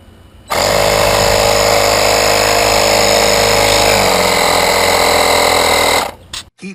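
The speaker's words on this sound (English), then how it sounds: "you stick it right in there and you fire up your compressor" An air compressor runs loudly and close, pushing air through an outboard motor's clogged carburetor fuel line, a steady dense mechanical drone lasting about five and a half seconds before cutting off with a few rattles.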